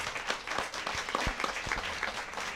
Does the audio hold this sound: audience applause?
yes